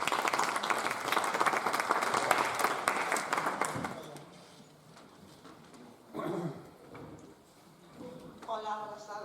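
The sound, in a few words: audience applause after introduction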